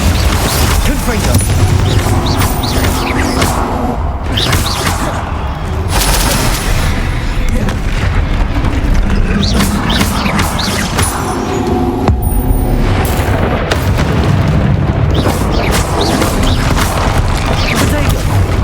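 Rapid, overlapping spell blasts and booms from combat in Hogwarts Legacy, loud and dense with barely a pause, while a voice repeatedly shouts spell names over the barrage.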